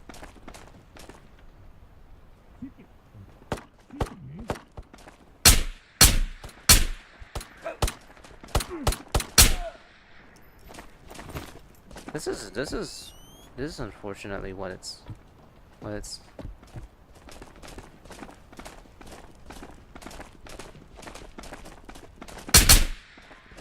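Bursts of gunfire from the VR shooter Ghosts of Tabor break out in sharp, loud volleys after a quiet stretch, with someone talking over the shots and ambient game sounds.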